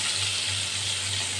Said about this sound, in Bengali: পটলও ভাজা হয়ে গেছে